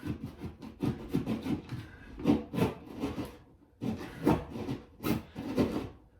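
A hand saw cutting into a wall to open a hole for a junction box: close, rhythmic rasping strokes, about a dozen back-and-forth pulls with short pauses between them.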